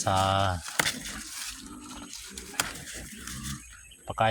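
Pigs grunt and squeal loudly while being fed mulberry leaves, with rough harsh calls at the start and scattered shorter grunts and noises after, a person talking over them.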